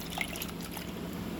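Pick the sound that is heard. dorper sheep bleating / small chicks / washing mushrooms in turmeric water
washing mushrooms in turmeric water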